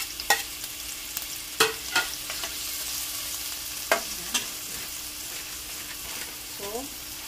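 Garlic frying in a pan with onion, the steady sizzle joined by several sharp clinks and scrapes of a utensil against the pan, close and moderately loud, with no talking.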